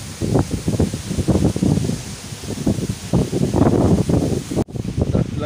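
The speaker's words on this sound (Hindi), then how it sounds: "बहुत ठंडी ठंडी हवा चल रही है।" Strong cold wind gusts through trees in stormy weather, with loud rustling leaves and buffeting microphone noise in uneven surges and no speech.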